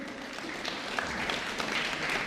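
Audience members at South Africa's National Dialogue convention clap in a steady, dense spatter of applause that holds at an even, moderate level for about two seconds, with no speech over it.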